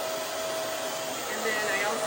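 A BaByliss Nano Titanium hot air brush blows steadily at close range, a constant airy whoosh with a thin motor whine and no breaks or talking.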